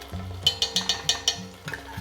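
Thai panang curry sautéing in a high-sided pan, with a soft sizzle and a short string of quick, regular clinks and scrapes from stirring, quiet and close.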